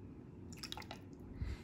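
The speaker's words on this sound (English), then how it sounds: "I'm going to use this smaller cup to help me measure my vinegar." Vinegar trickles and drips into a small measuring cup in a brief, close, quiet pour with a few wet splashes.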